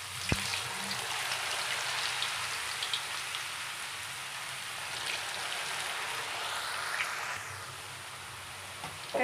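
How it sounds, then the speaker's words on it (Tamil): Red potato chips frying in hot oil, a dense, steady crackling sizzle heard close and continuous, with a brief sharp clink near the start and no talk over it. "உருளைக்கிழங்கு ரெட் கலர் சிப்ஸு சுடுறதுக்காக எண்ணெய் வச்சுட்டுங்க."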